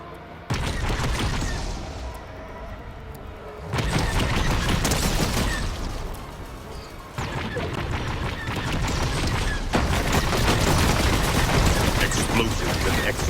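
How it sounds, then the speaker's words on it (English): Dense bursts of explosions and X-wing laser cannon fire in Fortnite, loud crackling barrages coming in long sustained blocks separated by brief lulls, with game chatter faintly underneath. "Explosives and X-wing laser cannons"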